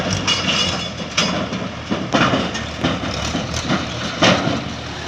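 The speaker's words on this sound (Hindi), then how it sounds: "JCB से ट्रैक्टर ट्रॉली में दबाकर खनन किया जा रहा है" A JCB excavator mining sand and gravel in the Ganges river, loading a tractor trolley; a steady low engine rumble runs throughout with intermittent clanks and scraping bursts from the bucket, close and fairly loud.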